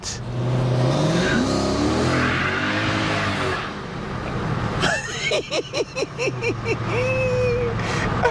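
A Bakkie pickup truck revs hard with its wheels spinning and tires smoking, a loud steady engine roar up close that breaks into rising, pulsing revs and sharp tire squeals midway.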